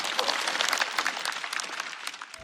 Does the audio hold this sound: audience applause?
yes